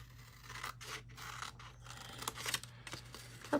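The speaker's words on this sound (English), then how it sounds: "so let's cut the triangle first." Scissors snipping through a sheet of patterned paper while cutting out a triangle for a mini Easter basket, a run of close, crisp cuts and paper rustles with a low steady hum underneath.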